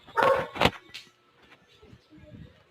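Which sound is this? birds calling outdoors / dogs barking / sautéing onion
dogs barking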